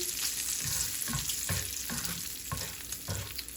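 Sausage sizzles steadily in a pan while a utensil chops it up, giving regular soft scraping taps roughly every half second over a constant frying hiss.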